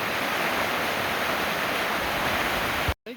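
Creek water rushes steadily beside an old colliery site in Mahanoy City, Pennsylvania, a dense, continuous roar close by that holds unchanged before cutting off abruptly near the end, with a brief thump just before.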